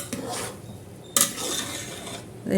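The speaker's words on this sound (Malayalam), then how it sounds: "നമുക്കതൊന്ന് തുറന്നിട്ട് ഒന്ന് മിക്സ് ചെയ്ത് കൊടുക്കാം" A metal lid clanks off a pot of chicken biryani, then a ladle scrapes and rubs through the rice, producing close, soft scraping with one sharp metallic hit.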